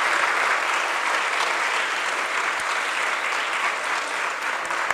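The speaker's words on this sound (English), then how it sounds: "Please help me to give rounds of applause to NATO Deputy Secretary General." Steady, sustained applause from an audience filling a university hall during a NATO panel event in Batumi, Georgia, holding an even level throughout with no pauses.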